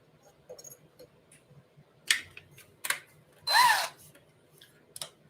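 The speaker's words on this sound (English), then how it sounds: "Drill those back in." A short burst of a power drill driving screws, whirring for under a second, with scattered clicks and handling taps before and after, close by.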